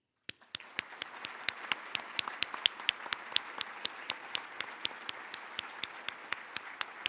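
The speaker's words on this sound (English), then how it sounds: "a round of applause, please, to our sponsors" Sparse, evenly spaced hand claps from a small audience at a city address, fairly faint and steady, continuing for several seconds without talk.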